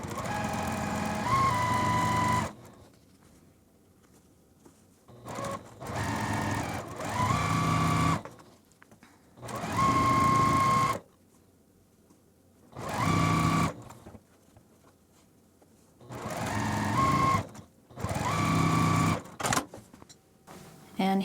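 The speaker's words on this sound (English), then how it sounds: "now we can take these over to our sewing machine and we can sew right down this" A sewing machine stitches a quarter-inch seam along a quilt block edge, running in several bursts of two to three seconds separated by pauses, loud and near, with speech at times.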